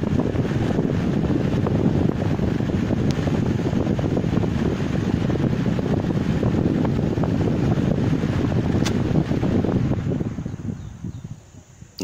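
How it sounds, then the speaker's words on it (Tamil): High-speed table fan powered straight from a solar panel without battery or inverter, a loud steady whooshing rush of air that drops away sharply near the end. "இந்த ஃபேன் பார்த்தீங்கன்னா டேபிள் ஃபேன்லே ஹை ஸ்பீடு ஃபேன் சொல்லி ஒரு சில ஐட்டங்கள் வருது"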